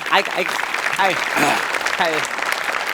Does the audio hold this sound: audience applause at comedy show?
yes